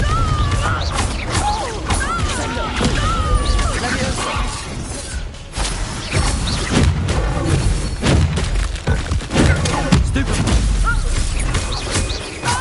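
In Hogwarts Legacy, the Confringo fire spell bursts into booming explosions and crashes amid loud, continuous battle effects, with game characters shouting over the clamor.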